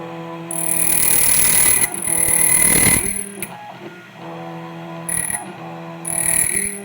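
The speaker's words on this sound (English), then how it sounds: "And I'm going to put a key down in the chuck. There it is. Let's go ahead and push cut." An ITL key cutting machine with an angled carbide cutter plunge-cuts a key held in its chuck, giving repeated whirring mechanical bursts with brief pauses between them.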